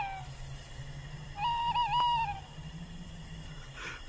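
An owl in an animated film gives a single wavering hoot midway through a quiet night forest, clear and close over a low steady hum, with no voices present.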